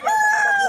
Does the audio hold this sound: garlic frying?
no